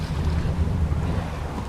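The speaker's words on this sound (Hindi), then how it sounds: "ये कार 30 मिनट तक पानी में तैर सकती है।" An amphibious car floats in water while waves slosh and wind buffets the microphone in a steady, close rumble.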